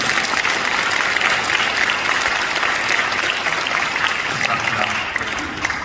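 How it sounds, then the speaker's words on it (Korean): A congregation applauds at a Korean-American National Day of Prayer gathering in Southern California, dense and sustained clapping from a large crowd, loud and even throughout before easing slightly at the close. "우리 하나님께 박수 한번 올려주시죠."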